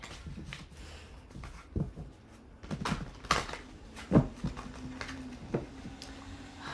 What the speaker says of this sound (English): I love these cards, but they don't shuffle as nice as I would like them to.